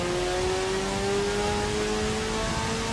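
A car engine in the racing sim Assetto Corsa EVO revs steadily, a smooth rising drone with clear harmonic whine held under constant load, loud and close, no talking.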